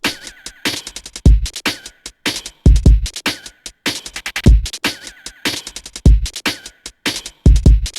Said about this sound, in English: So then we grabbed the drums